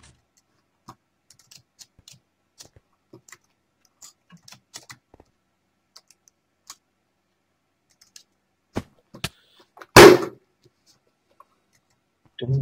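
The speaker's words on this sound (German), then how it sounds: "Du musst deine Tastatur nicht verprügeln." Computer keys and clicks tap sparsely and irregularly at first, then a few hard, loud knocks and a heavy bang land near the end, all close and dry with no talking.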